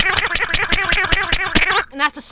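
A character's hurt sound from the Milk Game video game when struck: a quick string of rhythmic, voice-like yelps, loud and close, trailing off into a short higher tone.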